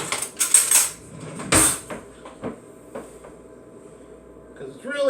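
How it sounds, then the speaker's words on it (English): Spoon scraping leftover chocolate lava cake from a baking dish, with sharp metallic clinks and scrapes in bursts, louder early on and sparser later. "So I'm just going to get something to scrape the rest of this out and put it in there."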